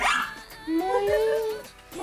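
A deaf dog gives a couple of short yelping, whining barks indoors, its voice rising and bending in pitch, with people chatting faintly in the room.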